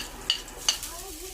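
Garlic sizzles softly in a pan being prepared for sinigang sa miso, with two sharp metallic utensil clinks close together over a brief frying hiss.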